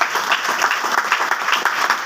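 An audience at a business meeting in a Gandhinagar municipal hall bursts into hearty applause for an upline leader, the clapping loud, close and continuous, with slight surges in intensity.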